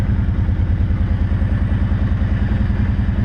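A Kawasaki Brute Force ATV fitted with EZ Steer runs close by with a steady, rumbling engine note and even pulsing throb, loud and constant with no talk.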